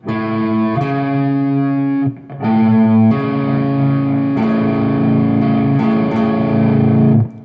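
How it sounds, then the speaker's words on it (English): A distorted electric guitar sounds a major third interval, the two-note dyad struck and sustained loudly three times in succession with a brief gap after the first, thick overdriven tone ringing alone. "The next sound is a major third."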